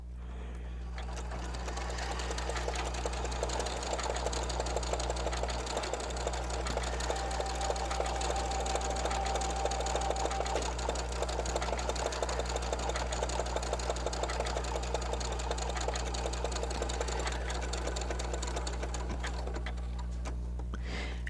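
A Janome Continental M17 sewing machine stitches appliqué in a steady, continuous run with a fast, even needle rhythm and a low motor hum, close and alone without talk.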